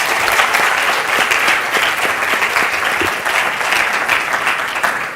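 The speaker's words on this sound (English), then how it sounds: "I think they deserve another round of applause." Sustained, dense applause from a large audience at a national championship launch event, loud and continuous without pause.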